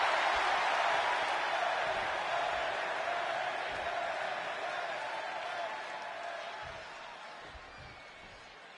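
A video game crowd in WWE 2K26 roars in a sustained ovation for CM Punk in his hometown of Chicago. The cheering is broad and steady and fades slowly, with occasional low thumps underneath.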